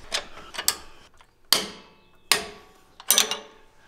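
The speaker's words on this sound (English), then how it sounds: "we're gonna grab our torque wrench again. This time for the lower bolts" Torque wrench tightening the lower bolts on a Jeep JL Wrangler during a Dynatrac EnduroSport 2-inch lift install, set to 80 foot-pounds: several sharp metallic clicks and ratchet snaps, close and fairly loud, spaced about a second apart with quiet between.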